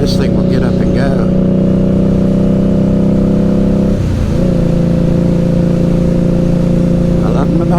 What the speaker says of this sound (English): Yeah, baby. This thing will get up and go.